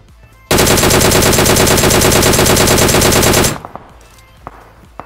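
Sustained automatic gunfire from a machine gun in the mobile battle royale game PUBG Mobile, a loud, dense burst lasting about three seconds, then quieter scattered game sounds.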